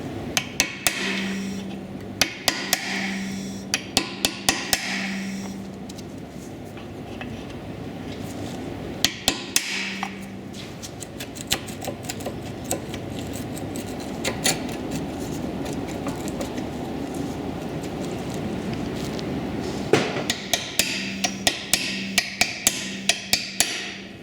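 Sharp metallic hammer strikes on a punch driving out a pin during a Brembo brake disc and pad replacement, irregular bursts of taps then a steady run of blows, close and loud over a low background hum.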